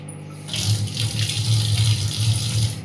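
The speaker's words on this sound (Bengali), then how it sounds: "কলের জল কিন্তু ঠান্ডা।" Water runs from a kitchen tap into a sink in a steady, close splashing stream that starts just after a brief quiet moment.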